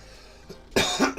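A person coughs during a hobby painting session: one or two short, harsh coughs close to the mic after a quiet stretch, with nobody speaking.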